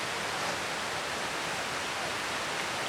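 A small waterfall in Yosemite pours in a steady, even hiss of rushing water, constant and fairly close with no other sounds.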